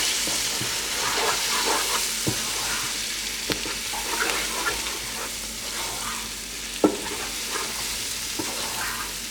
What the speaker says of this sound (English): To mix this into the onions